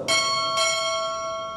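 Two bright strikes of a ship's bell during a U.S. Navy chief petty officer pinning ceremony, the second following about half a second after the first, with both tones ringing on and decaying slowly, alone and close.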